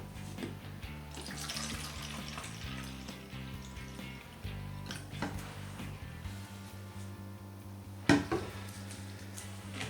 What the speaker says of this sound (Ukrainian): Додаємо до пластикового флакону 125 мл дистильованої води.